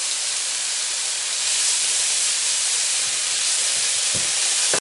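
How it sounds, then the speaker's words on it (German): Tomato paste and vegetables sizzle while roasting in a hot pan, giving a steady, loud, close hiss that swells slightly partway through, with a brief clatter near the end and no talk. "Und lasse das auch ein bisschen anrösten."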